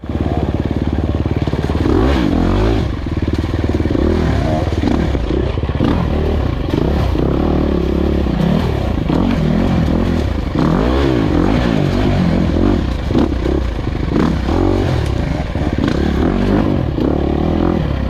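Enduro dirt bike ridden hard through a race test on rocky Missouri trail, engine droning and revving continuously up close with clatter of stones and scraping throughout.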